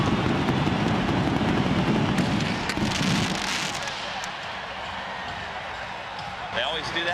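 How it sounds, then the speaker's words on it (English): Fireworks burst during an NFL halftime show, giving a loud, crackling, popping barrage that is dense at first, then eases into thinner scattered cracks and a distant fizzling wash. "Gotta have those fireworks, too."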